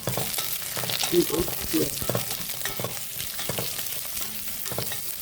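Chopped onion tipped into a hot pan of oil for a chicken dish, frying with a steady broadband sizzle and occasional stirring clatter, close and fairly loud throughout, with a brief spoken phrase over it.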